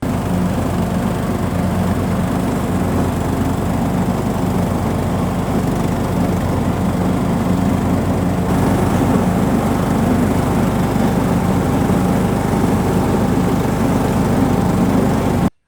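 A lawn mower's small engine drones continuously with a low rumble and constant loudness, idling or cutting, with no voices.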